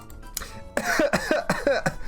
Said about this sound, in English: I start coughing uncontrollably.